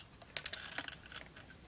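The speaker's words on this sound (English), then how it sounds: "Now lift the keyboard up and slide it forward and out." An IBM ThinkPad 2611-412 keyboard being lifted and slid out, giving a quick run of light plastic clicks and rattles close up, quiet and with no talking.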